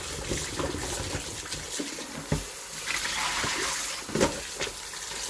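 A pumpkin is rinsed under a running tap for soup, a steady close wash of flowing water with occasional splashes and knocks as it is turned, with no speech.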